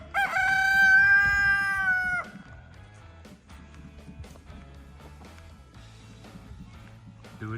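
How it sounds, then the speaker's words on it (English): A rooster crows loudly and close for about two seconds, then a flock of farmyard chickens clucks and murmurs steadily in the background. "Look at all those chickens."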